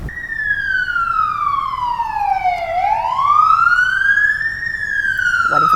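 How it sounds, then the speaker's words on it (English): A police siren wails loud and close, its pitch sweeping slowly down, then back up, in a long continuous cycle over steady traffic rumble. "Waiting for the sirens."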